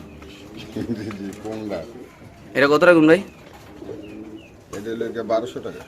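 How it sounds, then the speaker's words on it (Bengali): A caged pigeon at a pigeon farm coos in several throaty bursts, loud and near, while someone talks over and between the calls. "আমি নিজেও ডাক শুনছি এটা ডাকে সাতাশ নম্বর কবুতরের কাছে"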